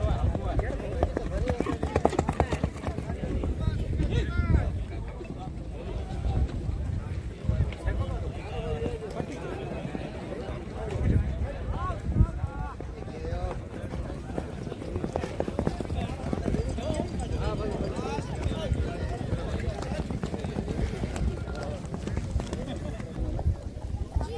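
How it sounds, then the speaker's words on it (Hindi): A horse approaches at an outdoor riding event, its hooves clip-clopping in a quick, steady rhythm under near, continuous talk from onlookers. "देखिए दोस्तों बुलेट घोड़ा सामने से आ रहा है"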